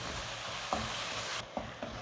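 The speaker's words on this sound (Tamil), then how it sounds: "தக்காளி கொஞ்சம் பச்சை வாசனை போக வதக்கிடுங்கோ" Ground tomato paste with masala powder and curry leaves sautéing in oil for a mixed vegetable sabji, a soft continuous sizzle with a few faint stirring scrapes, quiet and close.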